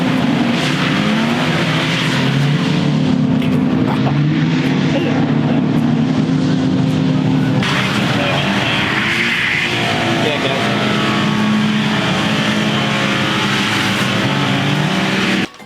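A car drifting on a track at a driving school, engine revving hard and steadily with tires squealing through the slides, loud and continuous, with a brief shift in tone partway through.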